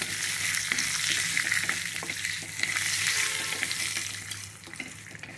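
Dried red chillies and kalonji seeds fry in a pan for a tamarind chutney, giving a continuous crackling sizzle with soft stirring scrapes, close and even throughout.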